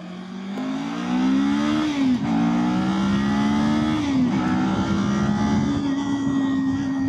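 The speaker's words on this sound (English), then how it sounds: "Bike is happy to rev out for sure." A motorcycle engine revs out hard through the gears, a loud, close, rising whine with two quick shift dips before climbing again.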